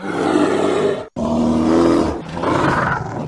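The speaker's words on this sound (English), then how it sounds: "A bear sounds like this." A bear roaring in two loud, rough, throaty bursts separated by a brief silent break, close and raw with a growling texture.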